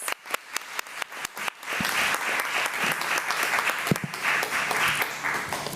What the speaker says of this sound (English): please give these staff members a round of applause